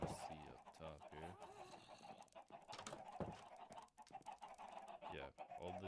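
Chickens on a Minecraft Java farm cluck repeatedly in short choppy bursts, several birds overlapping, under steady talking that runs throughout.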